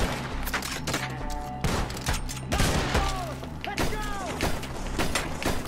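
Rapid gunfire in Red Dead Redemption, a dense, loud fusillade of repeated shots and thuds from close range, continuing throughout under a player's talk and game sounds.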